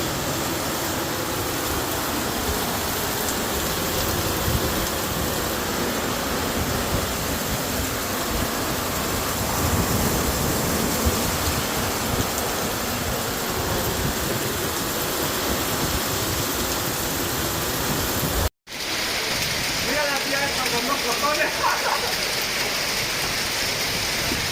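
Heavy rain during flooding in Barcelona, a dense steady wash of rainfall and rushing water that fills the whole scene, loud and unbroken apart from a brief cut near the end.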